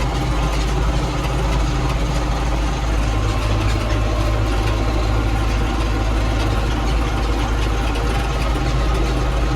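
A John Deere 3095D tractor engine runs at a steady, loud, low rumble with an even mechanical chug that holds the whole time, and no voices are heard.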